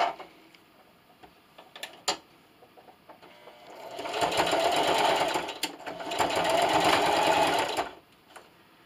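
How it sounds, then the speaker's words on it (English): A sewing machine runs a straight stitch along a pillowcase seam in two sustained bursts of rapid whirring, with soft clicks and handling sounds in the quieter stretches before and after. "I'll be using a straight stitch."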